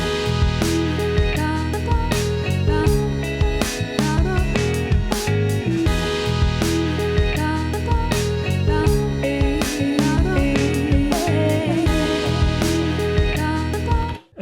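A steady Elektron Digitakt II electronic groove with punchy drum hits layered over sustained bass and synth tones, loud and continuous, ending abruptly.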